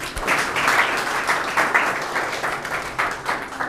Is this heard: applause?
yes